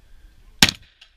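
A single sharp gunshot at a gun match, one close crack standing out against a quiet background.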